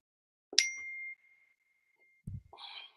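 A phone notification chimes once with a bright, clear ding that rings for about half a second in a quiet public board hearing room, followed after a pause by a low thump and some faint shuffling.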